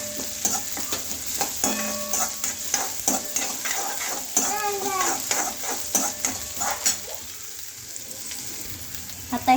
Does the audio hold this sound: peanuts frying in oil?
yes